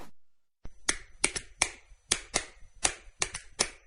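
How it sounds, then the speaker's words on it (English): Sharp, separate hand claps ring out one after another in an uneven rhythm, close and crisp, after a brief silence, with no voices. "Clapping your hands."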